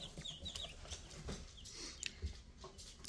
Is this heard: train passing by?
no